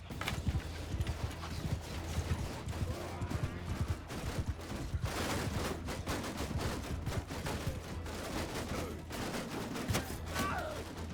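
Cavalry horses gallop in the medieval battle game Mount & Blade 2: Bannerlord, with a dense, irregular clatter of hooves close by, mixed with battle clashes, gunfire-like bursts and an occasional whinny.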